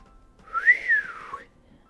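A person imitates a long whistle with the mouth, a single rising then falling tone held for about a second, clear and close with no other sound around it.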